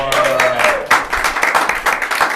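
An improv theatre audience claps and cheers in a sustained burst of applause for a revolving door scene, dense and loud throughout with a faint voice near the start.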